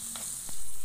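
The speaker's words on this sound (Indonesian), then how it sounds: "Tak lupa kita aduk, campur semuanya hingga tahunya meresap ke dalam bumbu dan matang." Mashed tofu stirred into seasoning in a frying pan gives a close, steady sizzle broken by a couple of soft scraping strokes, brief and without talk.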